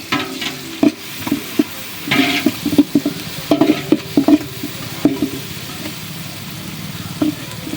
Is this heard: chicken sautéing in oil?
yes